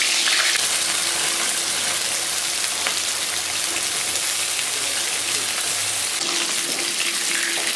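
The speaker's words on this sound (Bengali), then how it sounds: "পটলগুলোকে আমি এভাবে লাল করে ভেজে দেবো।" Pointed gourd pieces frying in hot oil in a pan, with a loud, even, close sizzle that runs without a break under a faint low hum.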